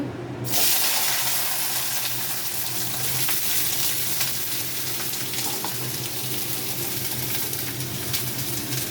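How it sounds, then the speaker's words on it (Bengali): Steady, dense sizzling of potatoes and yardlong beans frying in a pan, loud and continuous throughout with no talking. "লঙ্কাটা ভাজা হয়ে গেছে, এবার আলু বরবটিটা দিয়ে দেবো আস্তে আস্তে।"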